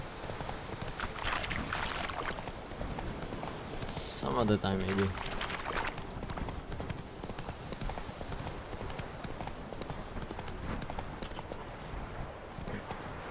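Horse hooves clip-clopping in the Witcher 3 video game, a steady close rhythm running throughout beneath game sound, with a person talking over it.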